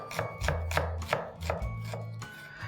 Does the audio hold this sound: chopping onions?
yes